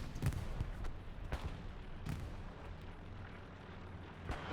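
Anti-tank cannons firing during a World War II multiplayer match on the Hurtgen map, heard as a few heavy distant booms over a constant low battlefield rumble, with no talking.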